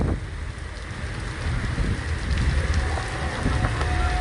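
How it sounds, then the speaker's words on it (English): Heavy rain pours down hard outdoors at a street protest outside Minneapolis's 3rd Precinct, a dense, continuous hiss and patter filling the scene with no talk. "it is raining so hard"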